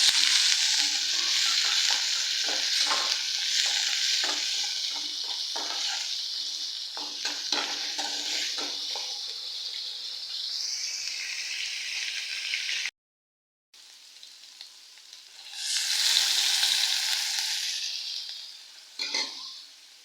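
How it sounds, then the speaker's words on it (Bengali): Spice masala frying in a pan with prawns, onion and green chillies, giving a loud, steady close sizzle with repeated scraping stirs, a brief cut-out, then a fresh surge of hissing. "এই যে এখানে মশলা কষানো"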